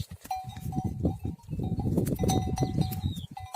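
Sheep on a farm bleat close by, a wavering nasal call rising over rustling and munching as the animals graze.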